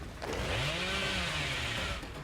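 A killer's chainsaw revs in the Dead by Daylight video game, a steady buzzing whine that rises and falls in pitch and runs continuously for about two seconds with no talk.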